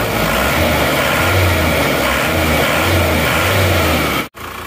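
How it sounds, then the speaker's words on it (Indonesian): A cold car engine with a worn liner runs steadily at a low, rhythmic idle with a pulsing throb, loud and close, then cuts off abruptly near the end. "Nah, ini mesin kondisi masih dingin."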